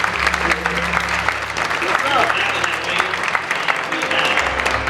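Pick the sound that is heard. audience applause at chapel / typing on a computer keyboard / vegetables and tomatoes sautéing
audience applause at chapel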